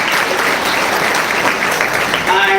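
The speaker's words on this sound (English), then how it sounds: "So a big round of applause for them." An audience at a 2023 college induction program gives a big round of applause, a dense and loud wash of clapping throughout.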